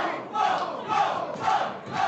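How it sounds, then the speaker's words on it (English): An Austin wrestling crowd at a Texas Contenders event cheers and yells in continuous, swelling waves, loud and close, with no clear speech. "Oh, the Austin crowd."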